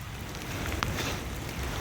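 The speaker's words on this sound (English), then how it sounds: "It ain't supposed to be raining in the middle of fucking summer." Summer rain pouring steadily, a soft even hiss of drops on surfaces with a low rumble underneath and one brief sharper tap, fairly faint and continuous with no voices.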